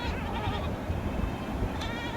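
Goats standing on a hillside give a faint bleat or two, mostly buried under steady rough wind and outdoor noise.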